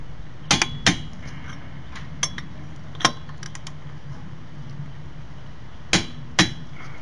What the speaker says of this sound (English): skip one, torque the next one, skip another one, torque the next one